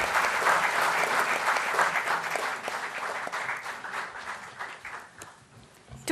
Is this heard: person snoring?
no